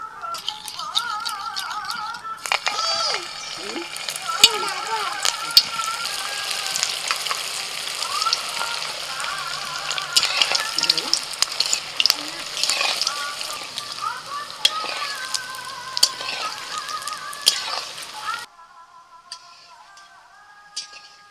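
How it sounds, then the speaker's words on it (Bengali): Soybean kofta balls fry in hot white oil in a wok, a dense steady sizzle with scattered clicks and rattles of the spoon, running loud for most of the stretch before dropping away near the end. "কড়াইতে সাদা তেল দিয়ে দিয়েছিলাম, তেল গরম হয়ে গেছে। এবার একে একে বলগুলো ভেজে নেব"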